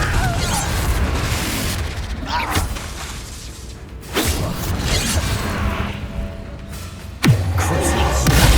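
A Bombarda spell in the video game Hogwarts Legacy sets off loud booming blasts with whooshes and crashing debris, about three heavy hits over a continuous rumble of combat.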